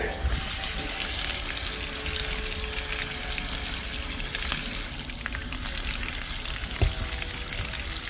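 Water pours steadily to soak a potted Scarlet Hawthorn plant, a close continuous gushing and splashing with a few small knocks.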